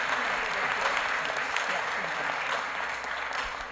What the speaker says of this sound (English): let's give a round for David